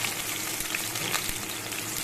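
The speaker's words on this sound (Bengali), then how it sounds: "তো আমি এই উচ্ছেগুলোকে এবার লাল লাল করে একটু ভেজে নেব।" Bitter gourd pieces frying in hot oil in a home kitchen while being browned for shukto. A steady, dense sizzle continues unbroken throughout, with no voices.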